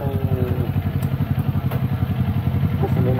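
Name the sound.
Kawasaki motorcycle engine idling while warming up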